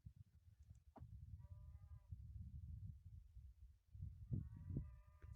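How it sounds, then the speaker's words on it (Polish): Cows moo faintly and far off in two drawn-out calls over a low wind rumble on an open hillside near Nossa Senhora da Peneda, Lindoso. "Słyszycie krowy?"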